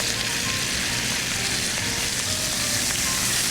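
Salmon fillet frying skin-side in a hot pan, a loud, dense, continuous sizzle with crackling spatter, close up and steady throughout.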